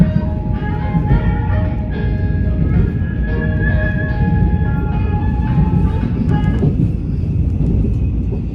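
A train arrives at Uijeongbu Station in Korea, with a steady loud rumble of wheels and carriages and a sustained metallic squeal that fades as it slows.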